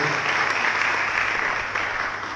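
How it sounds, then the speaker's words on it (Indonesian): Church congregation breaking into loud, sustained applause, a dense wash of many hands clapping close by without pause, slightly tapering toward the end. "kita berikan tepukan tangan yang meriah bagi Tuhan"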